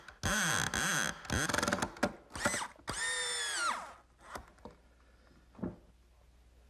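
A power drill drives a screw into the glued tenon of a rocking horse saddle in several bursts of whining motor, rising and falling in pitch, then short trigger blips and quieter pauses.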